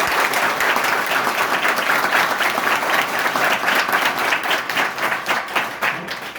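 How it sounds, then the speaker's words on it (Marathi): Loud, dense applause from the audience at a motivational lecture for tenth-grade students facing exams, sustained for several seconds and thinning slightly near the end. "एकदा जोरदार टाळ्या उपस्थित आलेल्या मान्यवरांसाठी"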